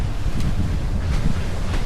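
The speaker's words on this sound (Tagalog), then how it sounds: "Hangin, tsaka maulan." Typhoon wind and rain outside a hotel in Boracay: a steady, loud roar of gusting wind buffeting the microphone, with a dense wash of rain noise and no talk.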